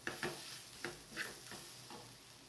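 A spoon is stirred through mung bean curry with homemade black spice paste in a pan, giving a series of soft scraping strokes at an uneven rhythm over a faint sizzle.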